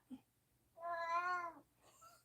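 A cat gives a drawn-out, whiny, strained meow lasting under a second, close and clear in a quiet room, preceded by a short faint chirp.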